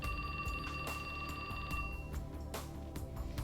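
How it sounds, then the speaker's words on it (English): A telephone rings in the 428 video game, repeated electronic bell-like trills in quick bursts over a soft background music bed, fairly clear and moderately loud. "His phone rang."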